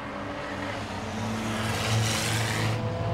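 Race car number 33 roaring past at speed during a race, a loud engine drone that rises and swells as it goes by, with a steady background of track noise.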